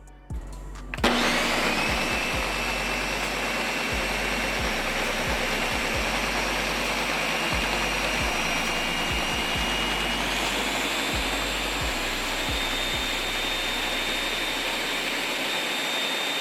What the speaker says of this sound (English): We're gonna blend all this up